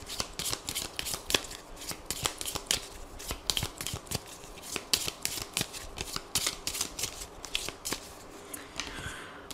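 A 32-card deck of playing cards being shuffled and cut during a card reading, crisp rapid riffles and slaps in repeated bursts, close and fairly loud, with no speech.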